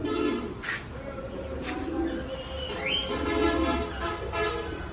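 Fancy pigeons in a loft, cooing softly alongside scattered chirps and a brief whistle-like call, over a steady low background rumble, moderately close.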